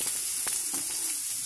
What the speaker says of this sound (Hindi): इसे अच्छे से भूनते रहिए।